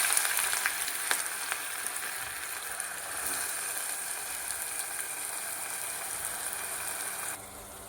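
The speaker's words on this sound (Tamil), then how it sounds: "நம்ம வச்சுருக்க ஆனியன், நறுக்கி வச்சுருக்க ஆனியனை ஃபஸ்ட்டு அதை ஆட் பண்ணணும்." Chopped onions frying in hot oil with fennel seeds, a steady close sizzle and crackle that runs evenly throughout, with a few faint stirring clicks and no voices.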